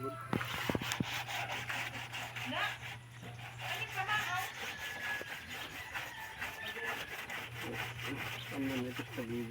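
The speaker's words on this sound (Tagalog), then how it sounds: "So liha na lang ang kulang, lilihain natin yan." Steady, rasping strokes of sandpaper rubbing across a wooden surface, continuous and close, with a rooster crowing faintly in the distance.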